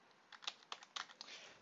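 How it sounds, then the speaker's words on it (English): Rapid typing on a computer keyboard, a quick irregular run of sharp key clicks at close range, fairly quiet, with no talking. "I can even really type very fast on my keyboard"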